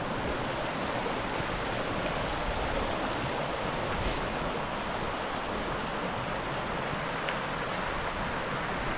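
Water of the Yarra River near Warburton, Victoria, rushes in a steady broadband roar that stays constant throughout, with no voices.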